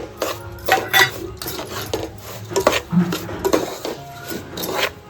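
Semolina and dry fruits roast in a pan while a spoon stirs them. Steady scraping and rasping strokes repeat at an uneven rhythm, close and clear, with no talk.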